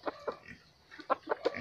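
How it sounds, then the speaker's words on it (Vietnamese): A seven-month-old rooster gives several short, close clucks in quick irregular bursts, with brief pauses between them. "Gà này 7 tháng rồi nhá."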